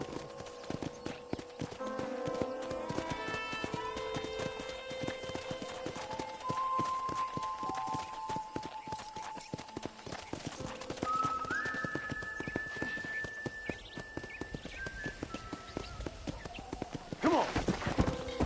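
Rhythmic clip-clop of horse hooves in a PS4 video game runs throughout, with tonal music and occasional game sounds layered over it, steady and moderately loud.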